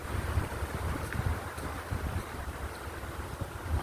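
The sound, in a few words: wind blowing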